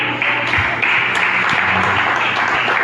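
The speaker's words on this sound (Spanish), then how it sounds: "Denle un aplauso a Cristo" A church congregation claps during a Spanish-language worship service, a steady, dense wash of applause filling the whole moment with a few sharper claps standing out.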